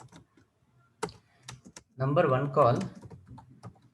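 Quiet, scattered clicks of computer keyboard typing, with irregular keystrokes and short pauses, sit under someone talking in a calm, low voice.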